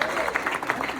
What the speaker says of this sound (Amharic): ለእኔም አጨብጭቡልኝ።